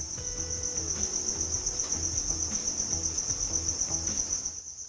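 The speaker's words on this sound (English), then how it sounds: "When you walk into the farm, you definitely are hit with the sound of chirping crickets." Crickets chirp in a dense, shrill, continuous chorus inside a large indoor cricket production farm, with a faint pulsing rhythm beneath and no talking.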